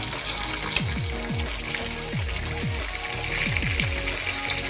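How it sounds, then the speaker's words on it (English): Chopped onions frying in a hot pan for Ghanaian jollof rice, a soft steady sizzle with faint crackles and occasional clinks, no voices. "we're gonna go ahead and add our onions"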